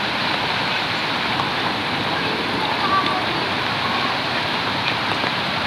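Rushing floodwater during a signal no. 2 typhoon in Laguna, a dense, continuous roar of churning water filling the whole clip at steady loudness, close and unbroken, with no clear voices.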